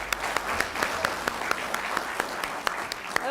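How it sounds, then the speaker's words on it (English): Steady crowd applause at a Palm Tran graduation ceremony, with scattered sharper claps and a cheer or two, sustained throughout at moderate volume. "let's give everybody a round of applause right now."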